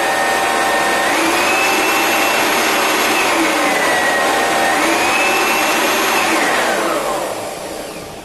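An Oreck HEPA bagged upright vacuum cleaner runs on its low setting with a loud, steady whine and airy roar, easing off slightly in the final second, with no voices.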